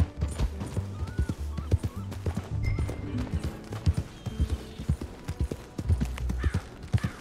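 Horse hooves clip-clop in the video game Red Dead Redemption 2, a rhythmic run of distinct hoof strikes on a road, moderately close and fairly quiet, with other low game sounds in the background.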